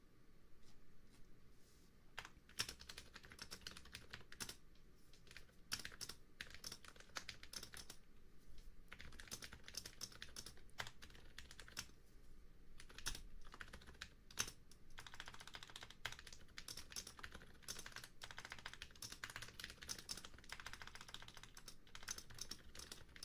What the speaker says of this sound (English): You guys hear my my typing?